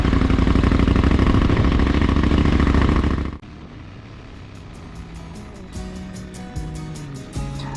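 A vehicle engine on the ride out to a park for a Parks on the Air radio activation gives a loud, steady rumble for about three seconds, then cuts off to a much quieter stretch of faint tonal sounds.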